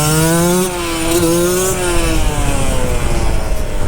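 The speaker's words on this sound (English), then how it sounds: "now acceleration test, 4-stroke versus 2-stroke" Two 125cc motorcycles, one 4-stroke and one 2-stroke, accelerate hard in a drag race. Loud, close engine notes climb in pitch through the gears, with a brief dip at a shift before revving high again.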